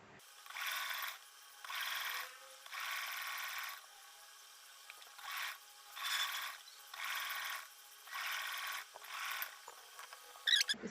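A sewing machine stitching strips of fabric into cords for a small doll's summer dress, running in about seven steady whirring bursts separated by short pauses, with a few light clicks at the end.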